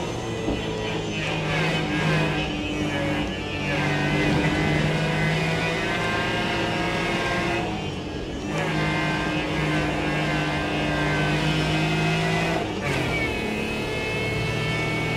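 A supercharged Daihatsu Midget driven hard at speed, its engine droning loud and steady with rising and falling revs through gear changes, close to the microphone with no talk over it.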